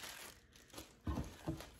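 Plastic bag crinkling around a taped, maple-flavored stevia syrup bottle: soft rustling throughout, with two louder crunchy bursts near the end, close and without speech.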